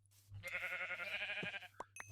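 A single drawn-out sheep bleat from the Magic Farm 2 video game, followed by a couple of small clinks, with no talking.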